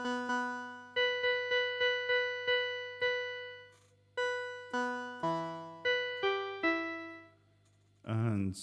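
A Gibson G101 organ played with a short sustain patch gives a series of clear, sharply decaying notes in a short repeating phrase, close and fairly quiet, ending in a brief noisy burst.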